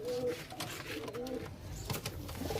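Pigeons coo steadily in a loft of Andhra-line birds, soft repeated throaty calls up close, with a few light rustles and clicks in the background.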